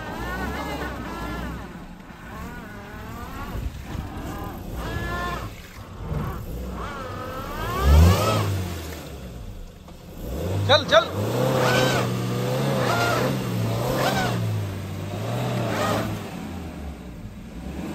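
A Maruti Brezza stuck in a farm field revs its engine in repeated surging bursts, the pitch rising and falling as it strains to pull free, while people shout and talk over it.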